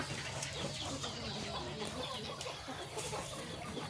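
Chickens and ducks kept with pigs beside a vegetable garden, clucking continuously over a steady wash of outdoor background noise, no clear voices.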